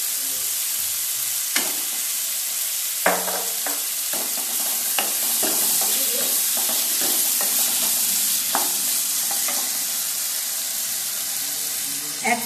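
Chicken Manchurian sauce with chilli, tomato and soy sauces sizzles steadily in a pan, broken by repeated close scrapes and clacks of a spoon stirring, with no one talking.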